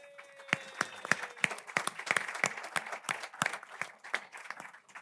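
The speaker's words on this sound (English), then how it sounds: "If you applaud longer, you have to listen to us for a shorter time" Small audience at a cigar panel presentation in London applauding, individual claps clearly distinguishable in an uneven, moderately loud patter, with a faint tone underneath near the start.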